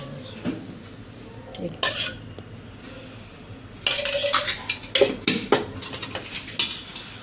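Coriander and a little oil stirred in a metal pan, with scraping and clinking utensil strokes that come in irregular bursts and grow busier toward the end, close and moderately loud.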